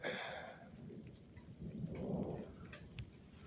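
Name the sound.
thunder rumbling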